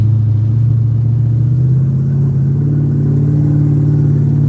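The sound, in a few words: Pontiac Firebird engine driving at 60 mph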